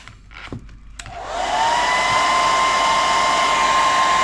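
A heat gun starts up after a few faint handling knocks and then blows a steady, loud whooshing roar with a constant whine, used to warm a body decal on an ARRMA Fireteam RC car body.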